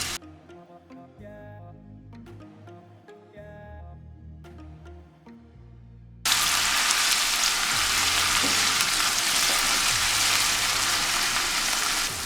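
Chopped onion hits hot oil for a Nigerian tomato chicken stew. The sizzle bursts in loud and dense at about six seconds and holds steady to the end, after quieter clinking and shuffling at the start.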